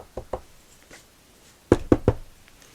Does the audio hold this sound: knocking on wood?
yes